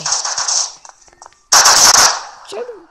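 Gunfire in the Prop Hunt video game comes in loud, close bursts of rapid shots, broken by a short pause, with a player's voice briefly heard over the game audio.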